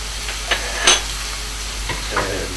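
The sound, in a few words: meat frying and sizzling in a pan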